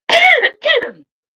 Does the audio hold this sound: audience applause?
no